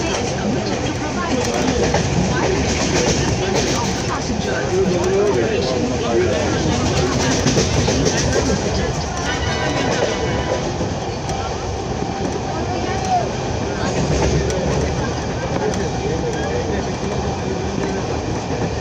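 A Howrah–Barddhaman (via Main line) galloping local train runs steadily for the whole stretch, a loud, continuous broadband rumble and rattle heard from inside the carriage, with faint voices of passengers mixed into the din.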